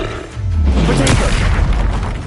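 A Confringo spell detonates in the Hogwarts Legacy video game, a loud booming explosion with a deep rumbling low end that swells and sustains for a couple of seconds, with no talk over it.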